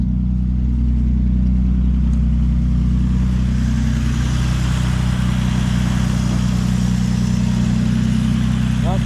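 Engine of a 1950 Dodge Meadowbrook running steadily with exhaust, a loud continuous low rumble and drone, close by, with no talk over it.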